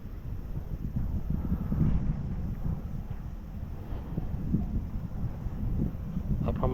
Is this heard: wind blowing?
yes